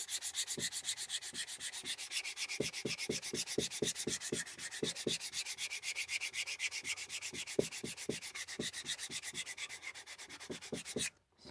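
A wooden mallet clamped in a vise and sanded by hand with 120-grit sandpaper, brisk rhythmic back-and-forth rasping strokes, close and steady, stopping abruptly at the end.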